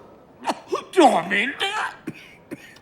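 A man in a hospital setting coughing, a few harsh close bursts and throaty hacks mixed with voiced, speech-like sounds.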